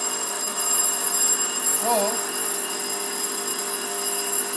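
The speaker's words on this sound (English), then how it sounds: "the bell will continue ringing until this person decides to come and attend to him." An electric call bell rings in short bursts over a steady electrical hum, with a faint voice speaking briefly.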